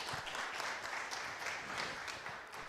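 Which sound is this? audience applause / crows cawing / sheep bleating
audience applause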